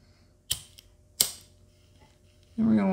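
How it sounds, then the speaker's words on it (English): Two sharp snips from cutting paracord a few inches down while making a slingshot, close and isolated, followed by a voice beginning to speak. "I'm going to cut the paracord."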